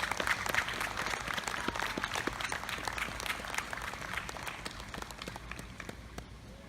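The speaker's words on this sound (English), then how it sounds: "Another round of applause for all our veterans and their families in attendance with us this evening." Steady applause from a concert audience at a US Army jazz ensemble performance in Cocoa, Florida, honoring veterans and their families, a sustained crowd sound with distinct individual claps that stays even and gradually softens.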